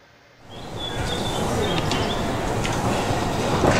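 A train on the Talyllyn Railway rolls past, building quickly from quiet into a steady, loud rumble and clatter of carriages with a faint high squeal on top, heard close by from the lineside.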